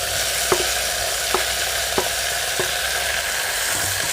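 Chopped tomatoes sautéing in a pan make a continuous low sizzle, broken by four or five distinct spatula taps and scrapes at a slow, uneven pace, close by with no talking.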